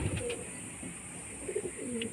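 Repeated soft coos from a male Madras pigeon of an old home-kept line, a few separate phrases close at hand against a constant faint hiss, with nobody speaking.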